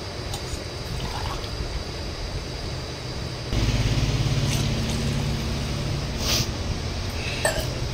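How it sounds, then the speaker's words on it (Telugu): Water pours into a cooking pan for boiling rice, a soft trickle that turns into a fuller, louder splashing stream partway through, heard close and alone. "కొద్దిగా నీళ్ళు కూడా యాడ్ చేసి బాయిల్ చేసుకుందాము."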